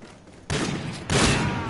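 Video game grenade launcher fires, two loud booming blasts about half a second apart, each leaving a broad rumbling wash of noise, close and without talk.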